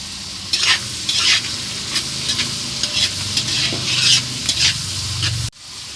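Beans and salt stir-fried in white oil in a pan, a steady loud sizzle broken by repeated scraping stirs, with a sudden drop to quiet near the end.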